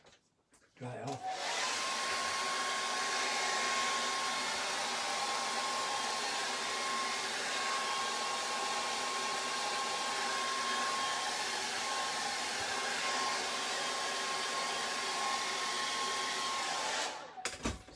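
A hair dryer blows steadily on acrylic paint on a painting, a continuous close whirring roar with a thin whine that starts abruptly, holds for about fifteen seconds alone, then cuts off.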